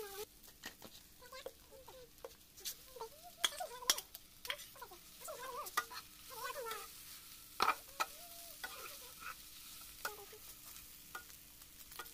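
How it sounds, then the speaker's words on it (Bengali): Noodles cook in a pan with a quiet background sizzle, broken by occasional sharp clicks and scrapes of a utensil, while a voice talks over it throughout. "আমি নুডলসটি রান্না করে নিচ্ছি"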